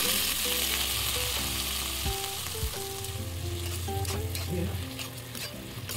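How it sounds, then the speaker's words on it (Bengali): Onion and tomato fry in hot oil left from frying a katla fish head, a steady loud sizzle with stirring scrapes and clinks running throughout, no talk. "ওই তেলেই আমি ভেজে নিচ্ছিলাম পেঁয়াজ টমেটো দিয়ে ভালো করে ভেজে নেব"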